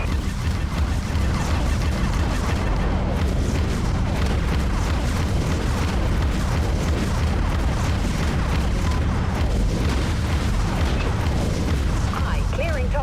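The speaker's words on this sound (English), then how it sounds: "Broadside batteries, fire." Warship broadside batteries fire in the Dreadnought space-combat game, a dense, steady wall of booming cannon blasts and mechanical rumble that runs throughout at moderate level, with voices heard over it.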